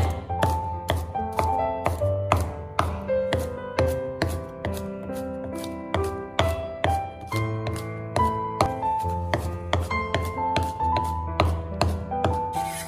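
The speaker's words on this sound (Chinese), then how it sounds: "把大蒜也切成末。" Knife mincing garlic on a cutting board, a fast steady run of crisp chopping taps, close and even, continuing throughout with no speech.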